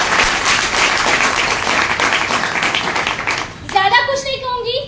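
An audience at an IMC business gathering gives loud, dense applause that fills most of the moment before fading as a voice takes over.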